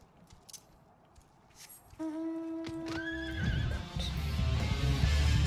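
A horse in the video game Final Fantasy XIV lets out a clear, loud whinny that rises and wavers, followed by hoof clops over ambient game sound.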